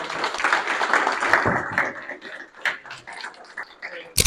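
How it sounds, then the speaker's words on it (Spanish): A small audience claps after a talk at an AI industry event, an uneven patter of hands that thins out within a couple of seconds, followed by scattered claps and a little background chatter. "Un aplauso."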